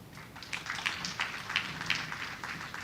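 Crowd applause at a medical college graduation ceremony for new doctors, a steady patter of many hands clapping at moderate distance with rhythmic surges, no voices over it.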